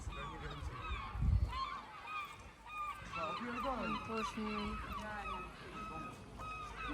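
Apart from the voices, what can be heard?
seagulls calling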